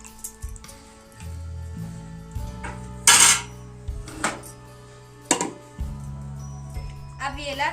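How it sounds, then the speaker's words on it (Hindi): A metal lid set over a kadai of kadhi gives a brief, bright clank in the middle, surrounded by quieter scrapes and light kitchen clatter. "कढ़ाई के ढक्कन ला ढक देना है।"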